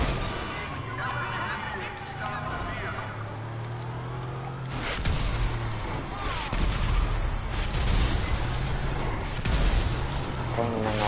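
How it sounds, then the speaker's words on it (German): Rockets fired at a car in the GTA V video game, with booming blasts and rumbling gunfire under a steady layer of game noise, a louder burst arriving midway as action intensifies. "Er schießt ganze mit Raketen auf mein Auto und das explodiert nicht."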